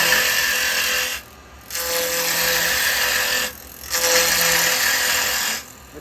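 Skew chisel taking quick peeling cuts on spinning wood on a wood lathe, heard as two loud, sustained scraping, hissing passes, each about two seconds, separated by short quieter gaps with the lathe humming.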